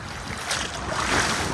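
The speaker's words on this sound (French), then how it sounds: "l'eau est assez agitée ici. Il y a de grosses vagues." Big, rough ocean waves at a beach on the Dominican Republic coast wash and roar continuously, mixed with gusty wind buffeting the microphone.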